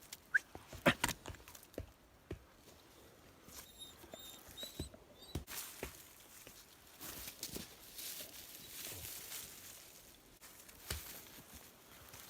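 A Belgian Malinois moving around a bushcraft camp in the woods, soft light pattering footsteps and rustles, faint and intermittent, with a few sharper ticks.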